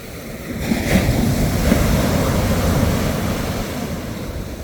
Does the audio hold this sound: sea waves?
yes